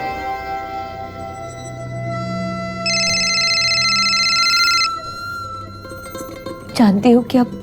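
A telephone rings in a Hindi crime-drama scene with a steady electronic ringtone lasting about two seconds over a low background drone, followed by a brief voice.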